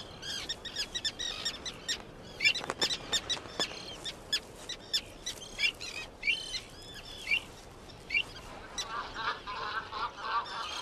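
Avocets calling around their nests on the shores of the Aral Sea in Kazakhstan, with a run of sharp, repeated chirps and piping notes, moderately close and irregular, over a soft outdoor background.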